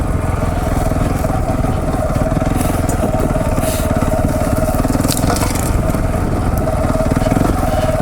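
KTM 690 Enduro dual sport motorcycle riding along a trail, a steady loud engine drone with rough rumble and wind throughout, no talk.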